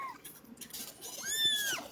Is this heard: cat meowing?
yes